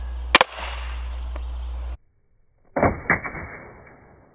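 A TenPoint Shadow NXT crossbow fires an arrow at an Apple MacBook Pro: a sharp, loud crack followed by a steady hum, a pause of silence, then a burst of impacts and rattling that fades.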